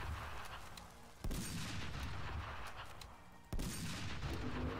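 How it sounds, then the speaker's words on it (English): Rifle shots in the League of Maidens game: two loud, punchy blasts spaced a couple of seconds apart, each followed by a lingering boomy tail over a continuous rumbling background. "I guess I can shoot it with the rifle"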